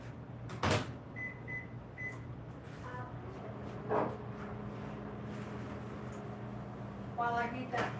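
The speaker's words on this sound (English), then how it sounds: "In the microwave." A kitchen microwave oven heats a tortilla with a low, steady hum; a few short electronic beeps come early, and a couple of clatters and faint kitchen noises sit in the quiet room.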